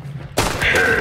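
A single sharp, loud gunshot in the first-person shooter game Hunt cracks out after a brief quiet moment, then rings on with a hissing, echoing tail.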